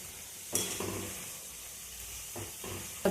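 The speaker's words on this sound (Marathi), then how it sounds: "लाल होईपर्यंत तळून घेऊ" Spicy cumin shankarpali frying in hot oil, a faint steady sizzle with a few brief louder crackles and bursts of bubbling, no voices.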